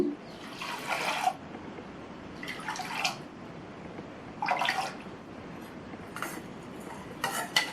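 Water is poured into a pressure cooker holding broken rice, soaked fenugreek, washed moong dal and salt, coming in five short splashing bursts separated by pauses, close and fairly quiet.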